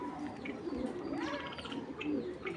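Club racing pigeons coo softly in a loft, low murmuring calls repeating under a continuous background hum, with occasional faint chirps.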